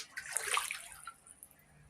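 Water splashes and sloshes close by in a short burst from floodwater inside a house, then fades to a quiet trickle.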